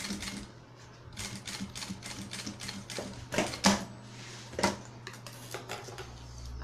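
A sewing machine stitches a seam in quiet, uneven bursts of rapid mechanical clatter, fairly close but soft, with brief pauses between runs.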